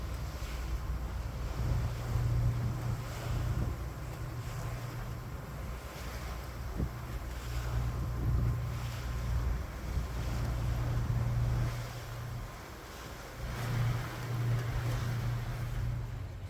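A boat sails past Djurgården back toward central Stockholm, with a steady low engine hum, wind buffeting the microphone and water washing along the hull throughout, no talk.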